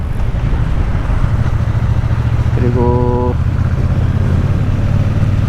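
A Triumph Bonneville T120 motorcycle with its stock exhaust gives a steady, loud, close low rumble throughout, while a voice briefly speaks over it.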